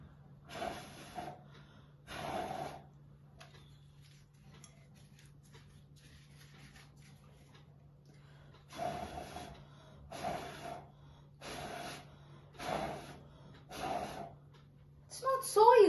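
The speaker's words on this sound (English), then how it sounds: "I want to blow this paper inside the glass" Repeated puffs of breath blown at a scrap of paper to push it inside a glass: short bursts in clusters with pauses between, close and fairly soft over a steady low hum.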